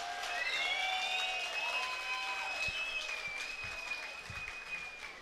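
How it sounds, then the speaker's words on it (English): A crowd at a kickboxing title fight applauds after five rounds, a sustained wash of clapping with whistles and cheers rising over it and slowly easing. "How about a round of applause for five amazing rounds of kickboxing"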